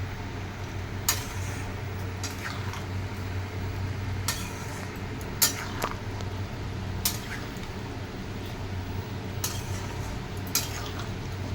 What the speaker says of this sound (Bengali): দিয়ে কিছুক্ষণ আমি এটাকে নাড়বো যাতে লবণটা পুরোপুরি মিশে যায়।